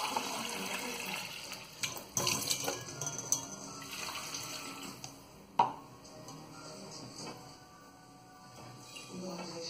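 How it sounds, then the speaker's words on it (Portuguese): Tap water runs steadily into a soup pot in a home kitchen, a continuous close splashing flow with a few clinks and bumps, and a voice talks faintly in the background. "Aí eu vou colocar a água."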